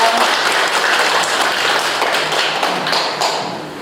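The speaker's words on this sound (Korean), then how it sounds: "교수님께 큰 박수 보내주세요" An audience at a Buddhist university lecture at a temple claps for the professor, with loud, sustained applause and a few sharper taps, fading slightly at the end.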